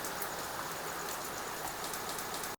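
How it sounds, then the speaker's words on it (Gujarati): Heavy rain falls steadily on a farm where water has pooled everywhere. The dense, even patter continues without voices until the sound cuts off abruptly. "નકર વરસાદ જો હજી ચાલુ જ છે. અત્યારે જો બધું પાણી ભર્યું છે."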